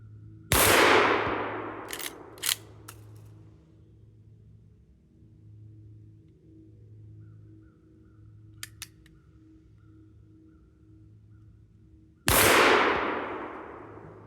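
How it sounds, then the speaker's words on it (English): A GForce Saddlehorn .357 Magnum rifle firing at a paper target, two loud, sharp shots about twelve seconds apart, with metallic clicks and clacks of the action in between over a low background hum. "Shoot a couple of shots and see how I'm doing with these Buckhorn sights."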